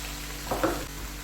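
Okra frying in a pan, a soft continuous sizzle with one brief stirring scrape in the middle.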